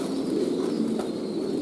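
Pigeons being fed in the morning coo softly and low, a steady murmuring of several birds close by with no clear breaks, moderately quiet throughout.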